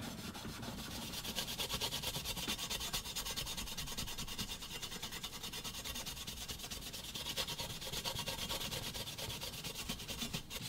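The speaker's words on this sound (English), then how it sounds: "And forget sandpaper. Scotch-Brite's where it's at." A Scotch-Brite pad scrubs a 1:18 scale model car body of a 1973 Trans-Am, a soft, steady, close-up rubbing and scratching that continues evenly without pause.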